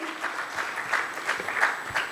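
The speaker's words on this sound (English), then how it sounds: "Can I hear some loud claps from all of you?" Audience at an awards ceremony claps in a brief burst of applause, a mix of many hands with a few sharper individual claps, moderately near and fairly faint.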